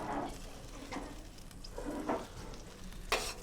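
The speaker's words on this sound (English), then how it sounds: "So you hear it kind of sizzling" A pan of paella sizzles and crackles steadily at low volume, with intermittent stirring scrapes and clinks breaking through, and no talking.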